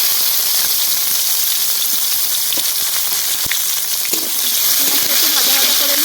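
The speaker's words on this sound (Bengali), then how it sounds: "এবার দিয়ে দিচ্ছি পেঁয়াজ কুচি।" Chopped onion drops into hot oil in a wok already holding whole garam masala and a bay leaf, giving a loud, continuous sizzling hiss with a few faint stirring knocks.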